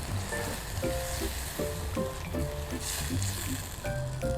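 Gravy thickened with flour in a roasting pan sizzles steadily while being stirred, with soft scraping strokes recurring every half second or so over a continuous frying hiss.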